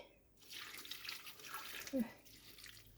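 A little water is poured into a pot for boiling a sweet dessert, a short, soft splash and trickle lasting about a second and a half, fairly quiet.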